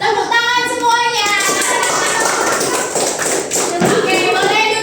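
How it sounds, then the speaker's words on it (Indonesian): A classroom of children claps together in a dense burst of hand claps, with children's voices and chatter mixed in throughout. "Tepuk tangan semuanya."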